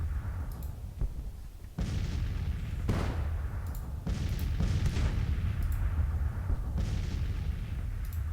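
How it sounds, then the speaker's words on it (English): Artillery fire from 17-pounder James guns in a Civil War battle in Grand Tactician, a rumbling barrage of booms at irregular intervals over a steady low battlefield roar. "And the 17-pounder James are also opening up with the command to fire at will."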